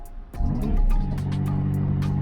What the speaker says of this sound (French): la voiture démarre